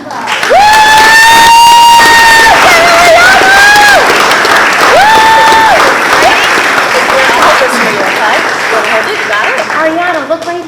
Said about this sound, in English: Applause for her with Penguin Pride.